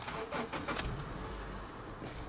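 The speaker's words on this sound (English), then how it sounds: "just give her a start." A 2008 Honda CR-V Sport automatic SUV starts with a brief cranking burst that settles into a quiet, low engine rumble, heard faintly from inside the cabin.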